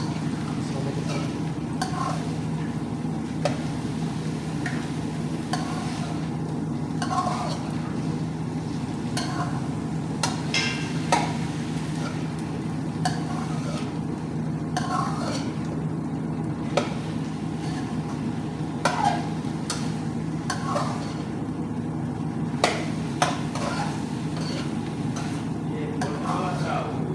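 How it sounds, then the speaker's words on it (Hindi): A mix of onion, spices and vegetables is stirred slowly in hot oil, a steady low sizzle running throughout with scattered soft scrapes and clicks of the spoon against the pan. "अभी इसको धीरे धीरे थोड़ा मिक्स करते हैं"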